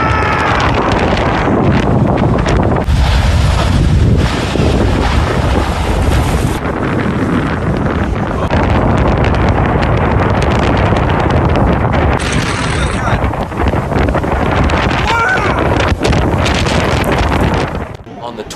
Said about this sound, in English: a tornado suddenly appears on the road ahead, tossing things into the air just yards away from the vehicle